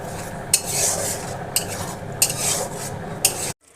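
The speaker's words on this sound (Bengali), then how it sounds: "এবার এগুলোকে একসাথে ভালো করে কষতে থাকবো।" A spice mixture with turmeric and a little sugar sautés in a pan under a soft sizzle, with four sharp scraping strikes of a spoon at roughly one-second intervals before it cuts to silence.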